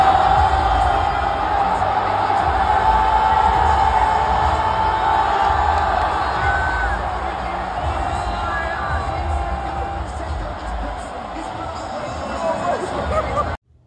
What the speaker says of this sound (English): the crowd was super atmospheric, and everything that happened just added to it